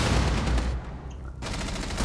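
Gunfire and explosive bursts in a competitive Rainbow Six Siege match, loud dense volleys at the start, a short lull near the middle, then renewed continuous shooting to the end.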